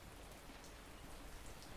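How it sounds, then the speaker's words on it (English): Steady rain falls in a survival video game, a dense, even hiss of drops spread across the whole range with no breaks, heard alone without any talking. "every once in a while, I feel like I see drops and it sounds like rain"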